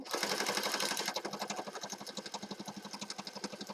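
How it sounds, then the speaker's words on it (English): A sewing machine stitches down a small ribbon tab on a handmade Christmas journal, running first in a fast blur and then settling into an even, rapid rattle of distinct stitches, close and alone. "Sewing our little ribbon tab down."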